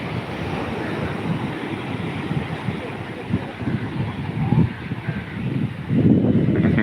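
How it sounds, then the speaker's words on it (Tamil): Sea waves washing onto the shore, a continuous rushing surf roar with wind buffeting the microphone, swelling louder near the end. "அப்படியே கடலில் காலில் வந்து தண்ணி அப்படி இருந்தா"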